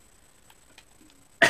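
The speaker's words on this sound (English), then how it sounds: "maybe coming up with a bit of a cough" A single short cough near the end, after a second of near silence with faint background ticks.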